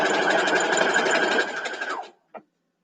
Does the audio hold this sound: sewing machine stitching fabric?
yes